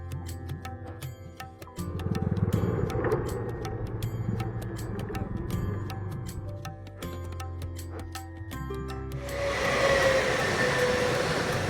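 A train rumbles steadily with rhythmic clacking of wheels over rail joints, growing louder and hissing toward the end.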